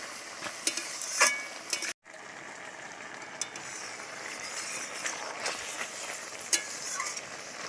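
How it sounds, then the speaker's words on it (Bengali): Spinach and taro cook in a pan, giving a steady moist sizzle with intermittent scraping stirs and clinks of the utensil, close up and with no talk. "পালং শাকের তো জল বেরোয় প্রচুর, দেখুন কত জল বেরিয়েছে। একটু নেড়ে চেড়ে নিচ্ছি।"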